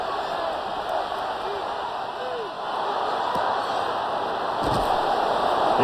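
A packed stadium crowd at an NFL game, Chiefs at Chargers, roars steadily as a loud, continuous wall of noise that swells slightly toward the end, trying to force a false start.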